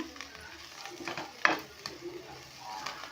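Two dried red chillies fry in hot oil for a tempering for palak sambar, giving a soft steady sizzle with light stirring clicks and occasional louder pops, fairly quiet and close.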